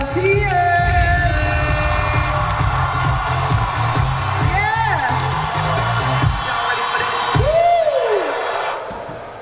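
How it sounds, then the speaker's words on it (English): A crowd at a Christmas Rhythm Truck show cheers and whoops loudly for volunteers. The noise is steady and close, with several high whoops rising over it. Music plays underneath and a voice calls out. "Everybody, round of applause for our volunteers."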